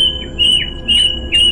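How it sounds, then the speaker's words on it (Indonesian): A dara-dasi bird calls repeatedly in clear, bright whistled chirps, each with a falling tail, close and loud against a faint background hiss. "terdengar kicau burung daradasi dari pohon randu di tengah kuburan"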